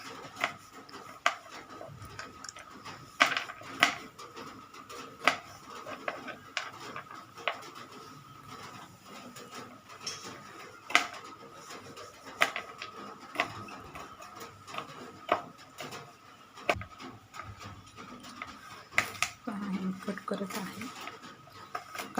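A knife chops cashews and almonds on a board in a home kitchen. The taps are sharp and irregular, sometimes coming in quick bursts, over a faint hum of background noise.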